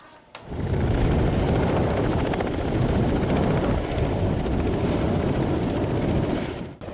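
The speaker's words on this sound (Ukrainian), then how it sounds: "універсальний гелікоптер К-226 піднявся у повітря" A Ka-226 utility helicopter flying on its first flight after years in storage, its rotor and engine roar loud and steady, beating continuously after a brief quiet start.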